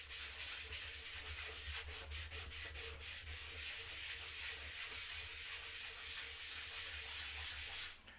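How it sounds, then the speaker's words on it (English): Steady, rasping sanding of a 3D-printed plastic support ring by hand, a continuous close scrape with faint rhythmic strokes running for about eight seconds under a low hum, with no talking. "I'm just trying to sand it down to where it's at least smooth"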